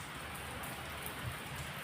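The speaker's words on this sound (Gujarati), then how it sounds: "વરસાદ આવતો હતો ધીમો પડ્યો છે." Rain falling steadily outdoors, a soft, even hiss of drops heard faintly and without a break.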